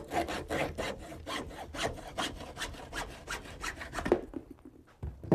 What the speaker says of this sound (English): use a hacksaw to cut off the damaged end